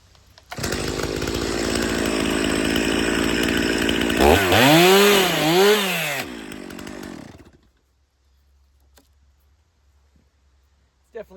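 A chainsaw cutting hickory firewood logs roars loud and close for several seconds, its pitch dipping and rising as the chain bites into the wood, then winds down to idle and stops, leaving near silence.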